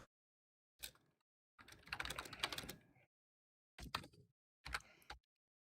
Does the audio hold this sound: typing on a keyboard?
yes